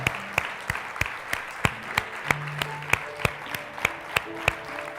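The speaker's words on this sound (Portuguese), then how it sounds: "Pode aplaudir mais forte ao Senhor." Steady applause from a church congregation fills the room, with sharp individual claps standing out at a regular beat over the continuous patter.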